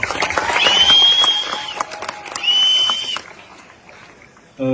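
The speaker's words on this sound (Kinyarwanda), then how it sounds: "mukomere amashyi cyane" A wedding crowd applauding and cheering, with bursts of clapping and high sustained whistling or ululating cries that rise twice and then fall away, followed by a quieter lull.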